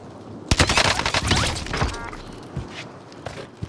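A burst of gunfire in Call of Duty: Modern Warfare, several sharp close shots in quick succession followed by scattered thumps and fainter reports trailing off.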